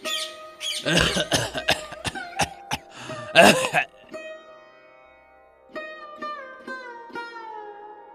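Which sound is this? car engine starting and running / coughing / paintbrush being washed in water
coughing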